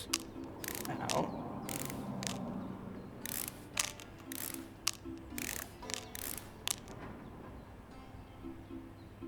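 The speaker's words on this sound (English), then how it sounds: "Let's take the screws out." Screws being removed in the Electrician Simulator video game: a run of short mechanical ratcheting clicks and whirs in uneven bursts over a low steady hum, with no talking.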